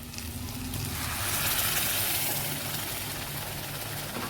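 Cooked mung dal tipped into a pan of fried spices, a loud broad sizzle that holds steady throughout, with a low hum underneath.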